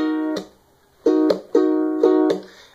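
Strummed guitar chord played in a rhythm, ringing out loud and close in several sustained strokes with short muted gaps between them, no talking.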